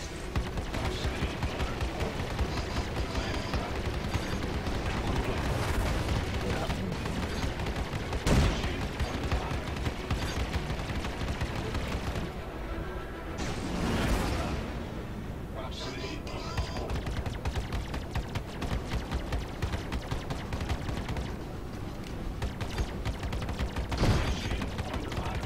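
Video game space dogfight: missile lock warnings and incoming missiles over sustained rapid gunfire and impacts, dense and continuous with sharp bursts, while people talk over the din.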